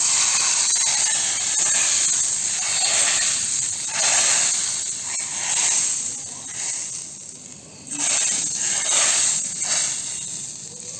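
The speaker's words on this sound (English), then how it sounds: "now the sizzle of the hot ghee" Hot ghee poured over cooked chana (Pindi chole) seasoned with amchur and kasuri methi, giving a loud, steady sizzling hiss that swells and eases in waves, with no talking.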